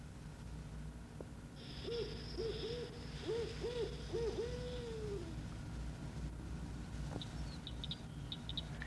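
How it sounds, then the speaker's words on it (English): A barred owl calls from a Florida swamp, a series of hooting notes ending in a drawn-out, falling hoot, moderately close over a steady low background rumble, with faint higher chirps later. "The barred owl is one of the earliest birds to nest."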